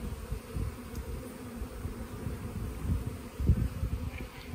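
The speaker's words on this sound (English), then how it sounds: "it's looking like we have 2 solid frames of bees" Close, dense buzzing of honey bees crawling over hive frames from a newly settled swarm, a continuous low hum with soft rustling and a few brief louder swells.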